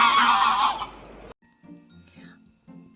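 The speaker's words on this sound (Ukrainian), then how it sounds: "Гуси голосно гелгочуть." Geese honk loudly together for about a second, then the sound drops away to quieter, sparse calls.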